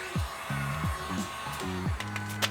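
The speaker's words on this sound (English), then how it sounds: "Time to get the heat gun" A heat gun blows steadily while the fenders of an 8th-generation Si are being rolled. The close, constant hairdryer-like rush carries a run of short electronic beeping tones over it.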